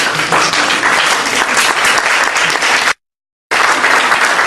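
Sustained applause from a conference audience fills the room, loud and steady with dense clapping, briefly cut off by a short gap of silence before resuming just as strongly.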